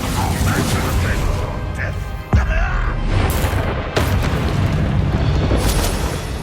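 In the Hogwarts Legacy video game, a Bombarda blasting spell detonates with a sudden booming explosion and sharp crack. A second burst follows shortly after, both over a dense, loud rumble of combat noise.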